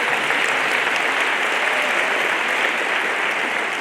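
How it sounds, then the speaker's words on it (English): A crowd at a 2023 matric results speech claps steadily and loudly for the Department of Education, dense applause sustained throughout without a break. "Can we give the Department of Education a round of applause?"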